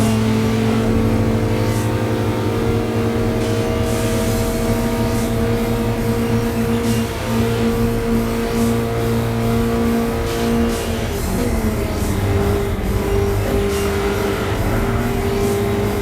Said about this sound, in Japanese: 3速にシフトダウンです。